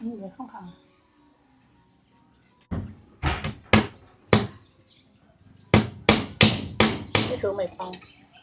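A hammer drives nails into soft wood while a fish trap is built outdoors: sharp, ringing blows in two bursts, a few single strikes then a faster run, with birds faintly behind and brief speech near the start and end.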